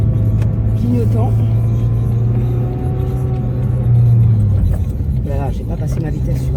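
Car engine hum from inside a vehicle driving through town, steady low drone with rises in pitch as gears shift up to fourth, with a driver talking over it throughout.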